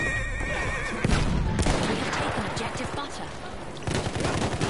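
A horse whinnies in a Battlefield war game amid a busy mix of gunfire and battle noise, with players talking over the action.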